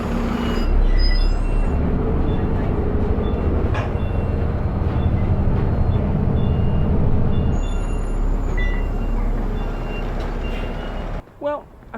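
A city bus in Taiwan drives and brakes, its engine rumbling steadily under constant road noise with faint intermittent beeps and an air-brake hiss near the end.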